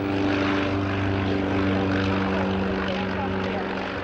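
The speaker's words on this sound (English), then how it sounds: "The engine has 9 cylinders generating 400 horsepower." A 9-cylinder, 400 hp propeller engine on an aerobatic aeroplane at an air show, producing a loud, steady droning roar with a constant tone that holds for the whole stretch, with speech underneath.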